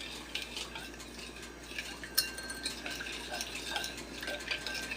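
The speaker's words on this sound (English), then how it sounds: "And I stir it up a little bit." Spoon stirring yeast with a pinch of sugar for homemade bread, giving a soft, steady scraping and light clinking against the bowl, close up with no talking.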